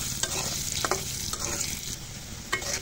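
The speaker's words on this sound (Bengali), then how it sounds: "এখন আলু দুটো ভেজে নেব" Cut potatoes fry in hot oil with a steady close sizzle, broken by occasional stirring scrapes and clinks, and no one speaks.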